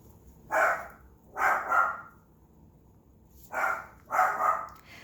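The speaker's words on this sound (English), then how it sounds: "Excuse me, that is my dog. If you can hear that, that's my dog." A dog barks during a home tarot reading, four sharp barks in two pairs separated by a pause, moderately close over a quiet room.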